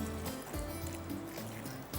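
Water poured into a cooking pan with green coriander, a soft trickling, splashing pour that runs steadily for about two seconds, close and moderately quiet.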